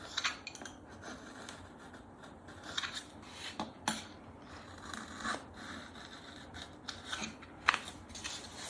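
A sharp chisel slicing through wood in short scraping cuts, with crisp shaving strokes repeating irregularly at close range against a steady faint background hiss.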